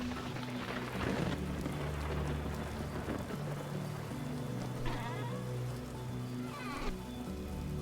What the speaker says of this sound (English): Oh, well, the storm is picking up.